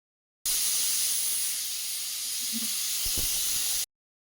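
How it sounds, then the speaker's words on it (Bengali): Steady loud hiss of steam from a pressure cooker boiling raw papaya pieces, a continuous close whistle-like rush lasting several seconds before cutting off abruptly. "এখন সেদ্ধ করে নেবো কুকারে একটা সিটি দিলেই হয়ে যাবে"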